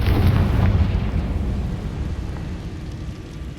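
A Confringo spell explosion in Hogwarts Legacy: a loud, deep booming blast at the start that rolls off into a long rumbling decay.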